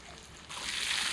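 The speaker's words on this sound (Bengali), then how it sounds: "আদা বাটা দিলাম, একটু নেড়ে চেড়ে দেই" Ground ginger paste dropped into a hot kadai and stirred for a rui fish curry. A faint, quiet wash of sound swells halfway through into a steady soft hiss.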